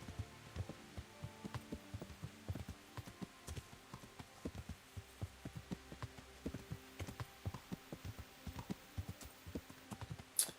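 Horse hooves clip-clop in a steady, quick rhythm in the game Kingdom Come: Deliverance, soft and close, with a faint hum underneath and no voices.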